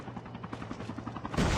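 In the Call of Duty: Mobile battle royale, a helicopter is about to blow up, with a rapid rotor chop thudding under bursts of gunfire that swell into a loud, sustained roar near the end.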